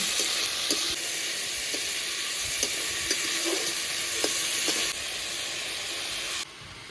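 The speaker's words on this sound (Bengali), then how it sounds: "ভালো করে এবার সিম আর আলুটা ভেজে নেব" Flat beans and potato pieces fry with slit green chilli, salt and turmeric in a pan, giving a steady close sizzle and hiss with occasional light stirring clicks and no voices.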